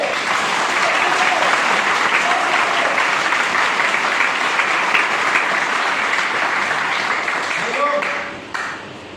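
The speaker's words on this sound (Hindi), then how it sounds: "क्या आप अपने लिए एक बार जोरदार ताली नहीं बजा सकते?" Strong, sustained clapping from an audience at an Indian street play fills the clip, dense and steady before tapering off near the end, with some voices mixed in.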